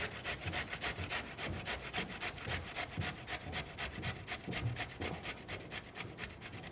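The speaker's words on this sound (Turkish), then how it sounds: "Havuçları da rendeledik." Carrots are grated by hand on a grater, a close, rhythmic rasping of quick repeated strokes that carries on steadily throughout with no talking.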